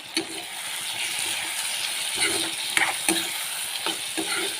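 Fish curry with turmeric being stirred in a sizzling pan, a utensil scraping and clinking against the metal in several distinct strokes over a steady frying hiss, close and fairly loud, with no talking.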